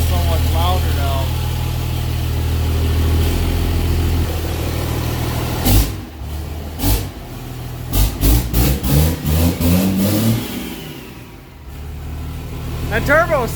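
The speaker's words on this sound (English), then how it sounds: "That turbo screams!" A 4th gen Cummins diesel truck with a swapped 2nd gen turbo and straight downpipe idles, then revs in a rapid series of sharp bursts, loud and close, with people talking over it.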